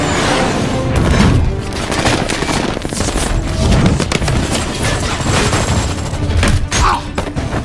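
Gunfire rages in an action movie battle scene from Captain America: The Winter Soldier, with dense bursts of rapid automatic shots, booms and impacts layered loudly and continuously, with music and effects filling the mix.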